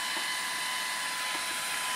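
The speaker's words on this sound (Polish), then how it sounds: "Dzisiaj wiercimy studnię u mojego szefa." Rig equipment drilling a 21 m water well runs as a steady, high-pitched whining drone with a faint constant tone, unbroken and moderately loud.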